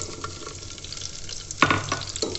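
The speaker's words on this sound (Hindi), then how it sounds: "अच्छे से प्याज को हम फ्राई करेंगे।" Onion, green chilli and curry leaves sizzle steadily in a hot pan of oil for tinda sabzi. A brief clatter of stirring is heard partway through, close by with no talking.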